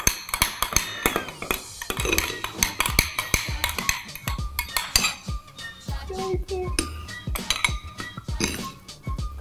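Homemade slime mixture being stirred in a bowl, a busy run of close utensil clinks and scrapes against the bowl with a quick, uneven rhythm.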